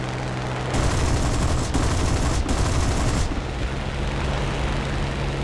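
Aircraft combat in the War Thunder video game: a steady engine drone is broken by dense bursts of rapid gunfire for a few seconds, loud and close, then the drone carries on alone.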